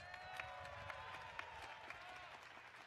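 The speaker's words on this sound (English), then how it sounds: "please give our faculty and staff another huge round of applause" A commencement crowd applauds faculty and staff, faint distant clapping with a few crisp claps and a murmur of the crowd beneath.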